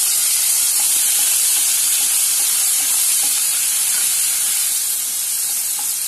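Onions dropped into hot oil with dried red and green chillies for a Tamil raw banana gravy give a steady, loud broadband sizzle and hiss that runs unbroken from start to finish, with no voices.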